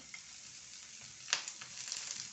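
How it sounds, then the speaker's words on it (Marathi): Onion sizzling steadily in a spoonful of hot oil in a pan, a continuous close crackle with one brief louder spatter or stir partway through. "आणि कांद्यालाही छान भाजून घ्यायचं"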